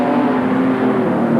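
A loud modified production race car engine drones at high revs nearby, a steady harsh roar with no talk over it.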